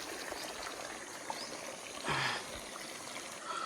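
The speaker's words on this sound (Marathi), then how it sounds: "इथं 1 2 3 4 झरे आहेत असे खालून डायरेक्ट पाणी वरती येतंय जमिनीतनं" Hot spring water wells up from springs in the ground at the Unhavare hot water pools in Konkan, a soft steady trickle with a brief louder gush partway through.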